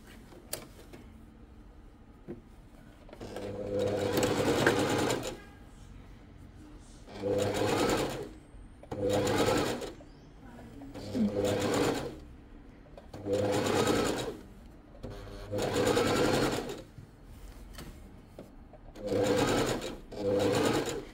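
A sewing machine stitches fabric for a child's kimono-style garment in repeated bursts of a few seconds each, with short pauses between runs, close and clear.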